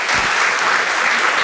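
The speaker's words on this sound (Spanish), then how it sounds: "Un aplauso para ellos" Warm audience applause for a married couple celebrating 46 years together, a short burst of dense clapping at steady volume.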